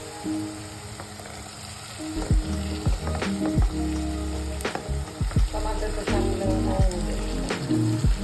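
Tomatoes drop into onion and green garlic paste frying in oil for a fenugreek and potato dish, a steady close sizzle punctuated by repeated spoon scrapes and clatters, no speech.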